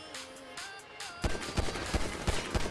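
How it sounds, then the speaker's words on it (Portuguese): Gunfire in the video game GTA V: after a quieter opening, a rapid series of about six loud, punchy shots rings out in an uneven rhythm over steady game ambience. "Nossa, enfiei tiro na cara do maluco."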